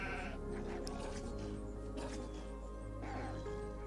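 Sheep bleating in the video game The Wolf, several wavering bleats in a row over continuous low game ambience, with a brief dog-like bark mixed in.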